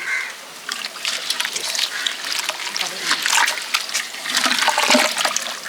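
A wooden ladle stirs a large batch of pineapple wine mixture made from 20 kg of pineapple, giving continuous close sloshing and splashing of liquid with uneven surges.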